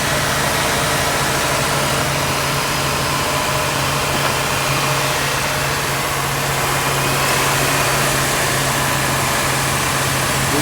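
The 4.2L engine of a 2004 GMC Envoy runs with its fan clutch engaged, a loud, constant roar of rushing air over a steady low engine hum.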